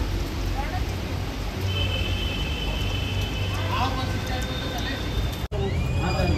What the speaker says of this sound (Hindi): दोबारा झमाझम बारिश स्टार्ट हो गई है